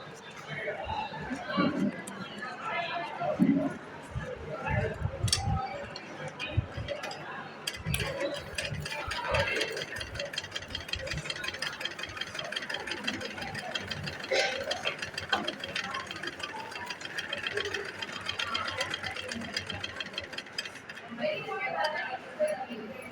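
A sewing machine runs forward and then in reverse across a suit bag, its steady mechanical chatter and ticking continuing throughout while a person talks over it.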